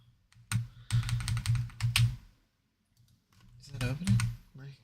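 Rapid clicking of computer keyboard typing in bursts, fairly close and distinct, with a gap of near silence before another flurry of keystrokes.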